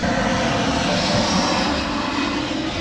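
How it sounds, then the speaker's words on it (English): Propeller-driven airplanes fly overhead with a continuous, loud droning roar that holds steady throughout, near and with no talking. "There's planes flying over us."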